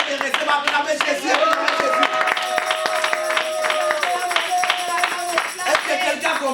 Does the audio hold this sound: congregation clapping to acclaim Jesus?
yes